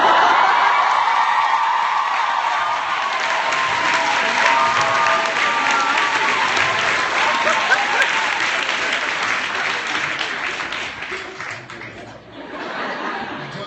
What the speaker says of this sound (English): Don't clap for that.